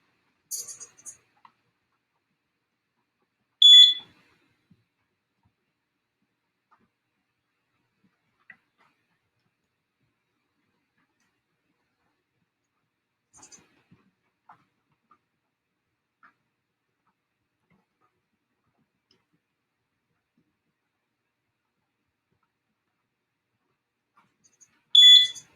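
A workout timer alarm gives short bursts of high electronic beeps, one near the start, another a few seconds later and a final burst at the end, with near silence between them.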